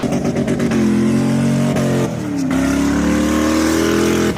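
Mercedes SL63 AMG with upgraded Pure 900 turbos and Weistec downpipes revs loudly up close, a sustained throaty engine drone that climbs in pitch, dips briefly, then climbs again.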